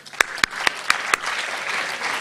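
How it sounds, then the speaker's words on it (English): Seminar audience clapping: several sharp, distinct claps close by at first, then a softer, continuing patter of scattered applause from the room. "Clap for this guy."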